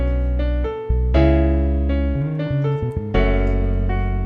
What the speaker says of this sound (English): Much thicker bass sound now.